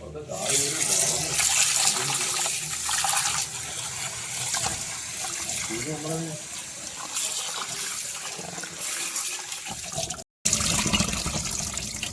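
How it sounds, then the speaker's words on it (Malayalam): Fish being washed with salt and water in a sink for a Thiruvananthapuram-style fish curry, running and splashing water with rubbing and sloshing throughout, a voice speaking over it and a sudden cut near the end. "ഉപ്പിട്ട് ഇങ്ങോട്ട് കഴുകുമ്പോൾ കിട്ടുന്ന സൗണ്ട്"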